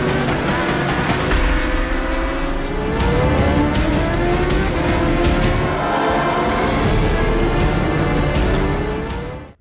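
Race cars roaring at the start of a race, with a loud continuous engine drone and rising pitch sweeps as several cars accelerate, sustained throughout and cutting off abruptly.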